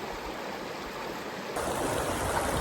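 River water at Box Canyon Creek flows in a steady, close rush that grows louder partway through, with no voices.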